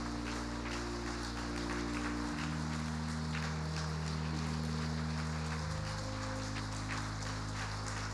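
A church congregation at a Sunday service claps steadily, blessing children as they walk back to their places, the applause soft and far off under a sustained organ or keyboard chord that shifts pitch.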